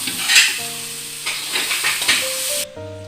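Lemon and date pickle stirred in a pan just after the gas is switched off, a soft sizzle and hiss with scraping spoon strokes close by and brief tonal beeps.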